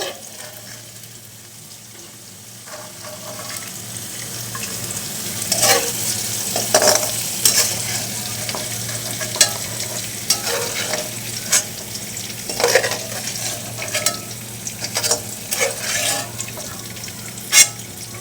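Winter vegetables frying and being stirred in a pan for noodles, a steady close sizzle broken by repeated scraping stirs and clinks that grow busier partway through.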